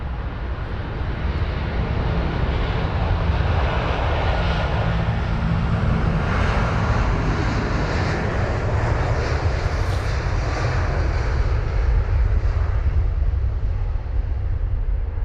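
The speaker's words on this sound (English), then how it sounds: "this one is heading to Los Angeles LAX's American Airlines aircraft, flight number AA135 with the 777-200ER" American Airlines Boeing 777-200ER, flight AA135, departing London Heathrow for Los Angeles: a loud, steady jet engine roar that continues unbroken throughout.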